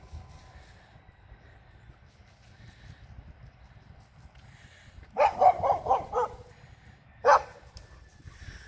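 A dog barking at a distance outdoors: a quick burst of four or five barks, then a single bark a moment later, over a low background rumble.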